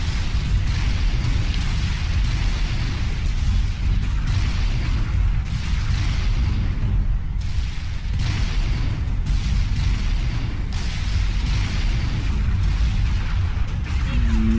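Dense, continuous gunfire and explosive booms from Halo: Reach fill the scene, loud and steady throughout with no clear pauses.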